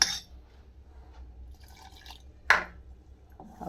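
Water is poured into ragi flour batter, giving a few short splashy, dripping bursts separated by quiet gaps, close and fairly soft, with no talking.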